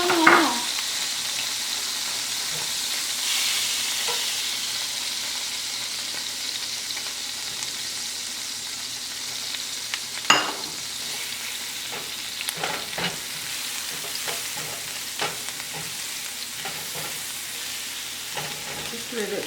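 Garlic sizzles steadily in a pan of oil and butter, a constant close crackling hiss with occasional scrapes and taps of a stirring utensil, no talking over it.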